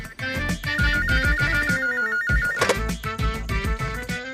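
An electronic landline telephone ring in a Telugu action movie scene: a loud, steady melodic ringtone with pulsing repeated tones, heard close and alone with no talking.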